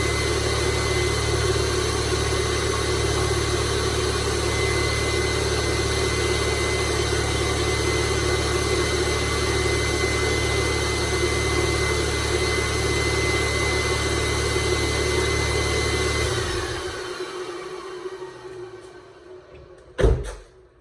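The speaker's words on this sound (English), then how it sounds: "That loud screaming sound you're hearing is the secondary air pump." A 1999-2005 MK4 Volkswagen 2.0L engine idles steadily with a loud high-pitched whine from the secondary air pump over the rumble, until the whine and engine noise drop away near the end.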